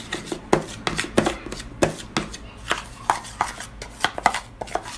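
Black clay mask being mixed with oil in a small bowl: a steady run of sharp, close scraping and tapping strokes in uneven rhythm, moderately loud, with no talking.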